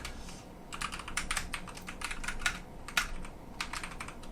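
A computer keyboard being typed on, up close: quick, irregular clusters of crisp key clicks over a faint background hum.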